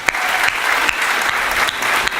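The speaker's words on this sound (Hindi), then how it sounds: "आप लोग जोरदार तालियां बजाकर उनका सम्मान करें" An audience at a Teacher's Day literary festival gives a strong, sustained round of applause, dense clapping near and loud throughout with a few sharper claps standing out.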